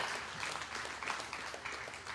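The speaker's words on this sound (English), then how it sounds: "Let's give the Lord a round of applause." A church congregation applauds together, a steady wash of many hands clapping in a large room, moderately quiet and sustained for a couple of seconds with no talking.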